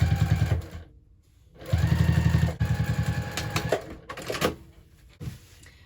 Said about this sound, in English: push it back and top stitch on the side panel